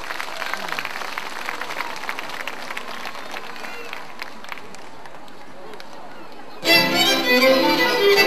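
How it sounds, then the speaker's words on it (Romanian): Audience clapping fills the first several seconds, a dense patter of many hands, then drops away before a burst of loud music or cheering at the end. "Aplaudați-i, că urmăm."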